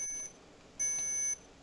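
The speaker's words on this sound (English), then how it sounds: "Stop beeping at me." An electronic device beeps in a classroom, giving a short steady tone and then a longer one after a pause. The beeps are moderately loud and stand alone, with no voices.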